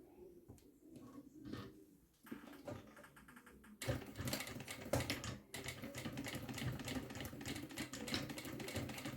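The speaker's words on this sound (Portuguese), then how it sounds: "Eu faço uma costurinha aqui, com retrocesso." A sewing machine stitches a backstitch along a zipper for a bag: a few short tapping runs at first, then a steady, fast mechanical rattle that carries on close by with no talk.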